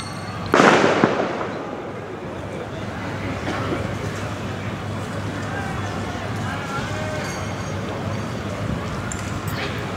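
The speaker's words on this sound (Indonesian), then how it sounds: "terdengar lagi beberapa suara dari petasan ya" A sharp firecracker blast near the start, followed by a steady crackling, rumbling din of distant explosions and crowd noise from a night protest outside the Mako Brimob gate in Kwitang, Central Jakarta.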